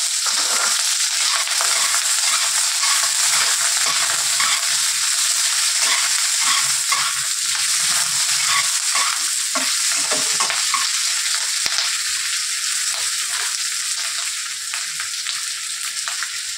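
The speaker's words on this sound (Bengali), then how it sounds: "এবার এই তেলের মধ্যে আমি এই পেঁয়াজগুলোকে ভেজে নেব" Onions fry in hot oil for a shrimp bharta, with a loud, constant sizzle and repeated crunchy stirring scrapes close up.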